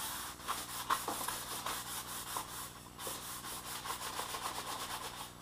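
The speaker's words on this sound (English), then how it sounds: "I want to make sure I do get a lot of good sanding in around that hole." Hand sanding of wood with 180 grit sandpaper, done around a hole on a DIY spreader bar: steady rhythmic scratchy strokes repeat close up for several seconds, fairly loud, with no talking.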